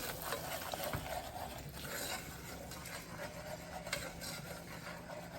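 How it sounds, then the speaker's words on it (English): Sugar being stirred into double chocolate pancake batter made from buttermilk pancake mix, a steady soft scraping and swishing of the whisk through the bowl, quiet and continuous with a few brief knocks. "I am adding this 1/3 cup of sugar. Mix this together."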